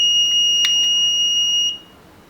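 An alarm clock built around an 8085 microprocessor beeps with a steady, piercing electronic tone, loud and close, before cutting off abruptly and leaving quiet.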